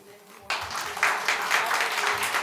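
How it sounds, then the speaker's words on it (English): Audience applause bursts in after a short quiet moment and holds as a dense, steady clatter of clapping through the rest of the clip, with a voice faintly present. "Round of applause."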